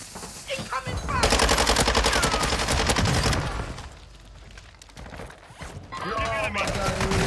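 Video game gunfire in Modern Warfare 3: loud bursts of rapid automatic fire, broken by quieter gaps, then another volley near the end.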